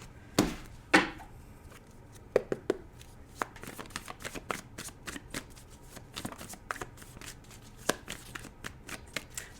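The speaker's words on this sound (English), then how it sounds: "I try to set it up so you can see me shuffle." Tarot cards are shuffled quietly nearby in quick riffles and soft taps, with a few sharper snaps early on and no talking.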